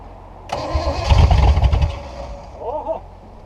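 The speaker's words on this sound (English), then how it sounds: "we're just going to crank on this a bit and" The engine of an old abandoned antique boat, neglected for decades, is cranked in the sun: a short burst of loud, rapid turning-over chugs that stops after a second or so, then a brief squeak.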